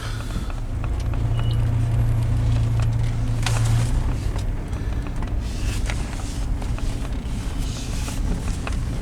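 A departing RV rolls away with a steady engine and road rumble that holds loud and even throughout.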